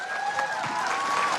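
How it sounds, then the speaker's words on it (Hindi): Clapping from an audience at a health-product gathering in India, a short burst of applause for an elderly woman, mixed with voices and a faint sustained tone above it. "ताली तो बजा दो अम्मा के लिए।"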